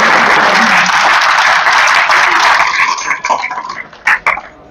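Applause from an audience in a university speech hall, dense and loud at first, then thinning out into scattered claps that fade and return in a few final bursts.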